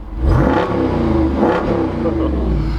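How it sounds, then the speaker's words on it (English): The 392 V8 engine of a 2021 Jeep Wrangler Unlimited Rubicon revs hard twice, its deep exhaust roaring up and settling back between bursts, loud and close. "I'll rev the exhaust a little bit."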